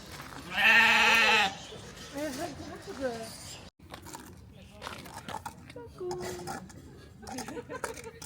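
A sheep lets out one loud, close bleat near the start at a small farm park in Australia, followed by quieter background chatter, clattering and people talking.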